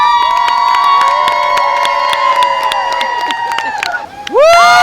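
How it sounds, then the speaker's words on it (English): A huge crowd cheers and whoops loudly and continuously on the final day of Splash Mountain, the log flume ride at Walt Disney World, and the cheering swells sharply at the end. "This is like marathon cheering."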